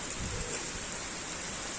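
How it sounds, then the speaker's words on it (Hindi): Heavy monsoon rain pours down outdoors, a dense, continuous hiss of drops on surfaces, steady and loud with no pauses or voices. "झमाझम बारिश शुरू हो गई है।"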